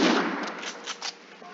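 Gunfire in Call of Duty Infinite Warfare, a sharp burst opening loudly and then trailing into a few fainter, muffled cracks, heard alone without voices.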